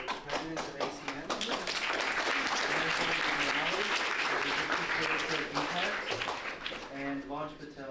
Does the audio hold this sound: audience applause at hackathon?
yes